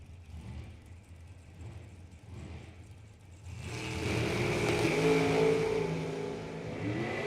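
A dragster launches on a bracket racing drag strip, starting as a distant engine rumble before a loud, sustained roar rises and holds as the car runs down the track.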